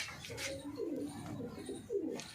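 Pigeons cooing softly in a coop, several low rolling coos repeating under a constant background hum.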